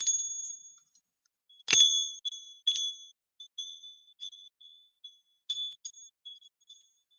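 Small vintage Japanese Christmas bells with silk ribbon and pine cones jingle in a series of bright, clear rings, several separate shakes with short decays and pauses between, close and alone.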